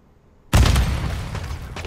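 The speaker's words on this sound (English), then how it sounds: "Throwing grenades." In Call of Duty DMZ, a sudden loud grenade blast erupts after a quiet moment, a sharp boom followed by rumbling debris and a second fainter crack as the noise slowly fades.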